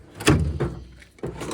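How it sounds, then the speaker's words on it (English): Tool drawer in a heavy-duty service truck, a sticky one that resists closing, shuts with a few dull thunks: a firm knock, a softer second bump, then a final clunk, close and fairly loud. "So that's that drawer that never wants to close."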